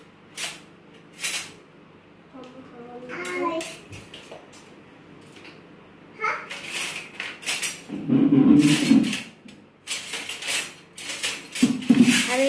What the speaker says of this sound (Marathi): आता पावभाजी गरम झालेली आहे. चमचा काढूया.